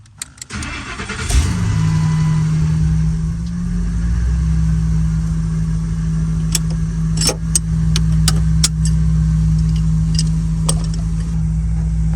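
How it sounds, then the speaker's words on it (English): A Ford truck with a broken shifter column is started in neutral: a short starter crank catches, and the engine settles into a loud, steady idle close by, with a few light ticks and clicks over the running engine. "So I'm able to start the vehicle. You guys can see it's running."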